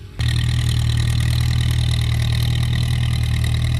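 A Ford 6610 tractor with a single-axle plough kicks into a steady, loud idle right after a brief quiet start, its low throbbing engine note continuing unbroken close by with no talk.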